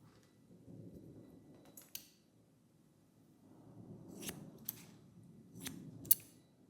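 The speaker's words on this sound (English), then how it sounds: "I take a central section and begin cutting." Scissors snipping through curly hair during a haircut, a few faint close crisp snips spaced apart with soft rustling of hair between them.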